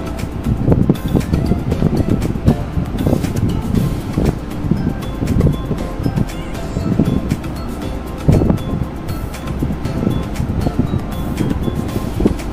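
Steady roaring airflow from ventilation fans inside a closed two-storey chicken house fills the space, a loud continuous rushing broadband noise with slight fluctuations and no speech.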